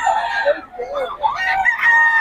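Roosters crow close by, overlapping calls with some clucking mixed in.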